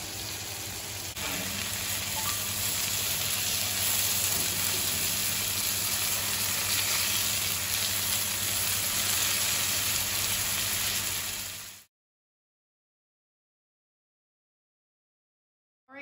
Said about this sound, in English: So these are going to sear until they're brown on one side.